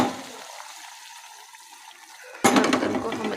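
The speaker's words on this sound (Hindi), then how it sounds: "तो ये जो पानी है इसी तरह हम शामिल करते हैं" Water is poured into a cooking pot of softened pumpkin and chana dal, a sudden loud splashing rush that starts partway through after a quiet stretch of faint room noise.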